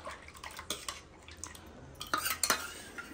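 A spoon clinks and scrapes inside a pot as cooked toor dal is stirred into rasam. The light metallic taps come in small irregular clusters, close and fairly quiet.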